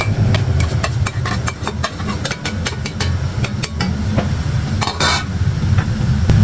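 Noodles with fried chicken are stirred in a pan over a very low flame, giving dense repeated scraping and clattering strokes over a continuous low rumble; close, busy and without talk.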